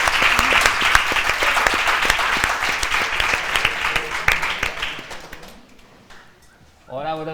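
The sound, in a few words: audience applause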